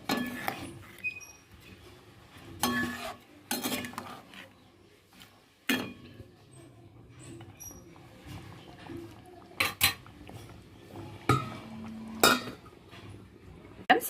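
Clanks and scrapes of a spoon stirring curry mixed with yogurt in a metal pot, brief irregular clinks and knocks scattered over a quiet kitchen background, close and moderately loud.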